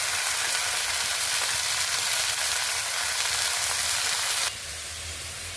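Leafy greens frying in a hot pan with black cumin and chillies, a loud steady sizzle that cuts down abruptly to a quieter hiss near the end, close up and with no talk.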